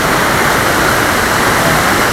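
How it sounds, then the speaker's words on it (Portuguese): A canyon waterfall pours in a steady, loud, unbroken roar of rushing water that fills the whole clip, with no voices. "Então deixamos uma cascata ali, cânion, e essa maravilha da cascata."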